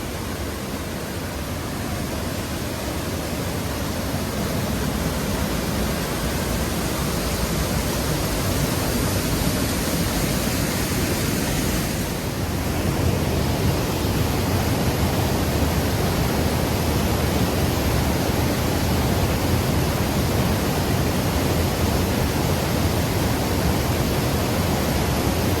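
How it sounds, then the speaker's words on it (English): Steady, powerful roar of St. Mary and Virginia Falls in Glacier National Park on a rainy day, a dense continuous rush of water heard up close, growing slightly fuller midway as the falls are approached, with no talk. "here we are approaching the falls, the upper portion of the falls here"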